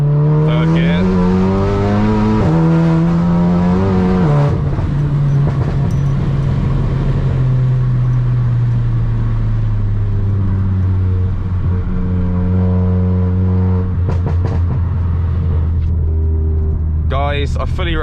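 A stage 3 tuned VW Golf R of about 500 bhp accelerates hard in third gear on a winter drive, its engine note climbing loud and steady in pitch, easing through a shift, then pulling again with short bursts near the end.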